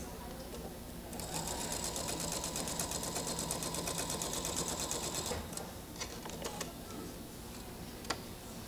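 Sewing machine stitching a quilt seam, a steady rapid mechanical whirring and ticking for about four seconds, then stopping, leaving quiet room sounds and faint handling noises.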